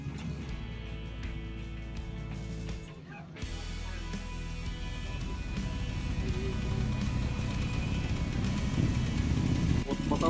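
Moto Guzzi motorcycle fitted with a Ural sidecar at a vintage motorcycle festival in the USA, its engine running steadily nearby and swelling slightly louder over time, with a brief dip in the middle.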